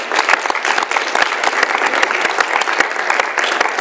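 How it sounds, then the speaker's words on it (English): Enthusiastic applause from an audience at a student government presidential debate, dense steady clapping throughout with no voices standing out. "please join me in giving everyone a round of applause"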